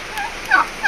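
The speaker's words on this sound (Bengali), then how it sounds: "এই টার্কিটা দেখো, টার্কি বার্ড।" A turkey at a bird enclosure during a Jhargram tour gives a short, fairly close gobble in two quick bursts, with a stronger call near the end.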